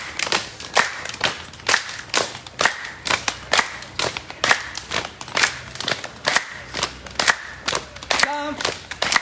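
Crisp, close hand claps repeat in an even, brisk beat as jumping jacks are done in a daily exercise routine, with faint thuds in between and a short voiced sound near the end.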